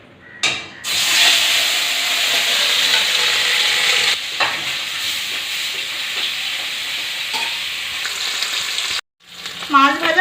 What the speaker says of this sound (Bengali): এবার লবণ আর হলুদ মাখানো মাছ দিয়ে দেবো।